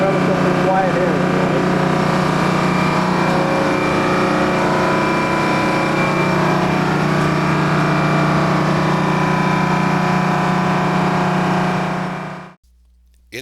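A ship's harbor generator runs steadily in its enclosed generator room aboard the Captain Bob, a loud, close, continuous engine drone with a constant hum that cuts off abruptly near the end.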